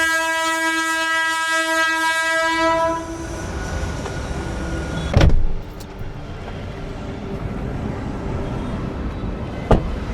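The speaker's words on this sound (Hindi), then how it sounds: "फाइनली हम पहुंच चुके हैं अभी रेलवे स्टेशन पर" A train at an Indian railway station sounds a long, loud horn blast. Rolling rail noise follows, with two sharp clanks from the wagons.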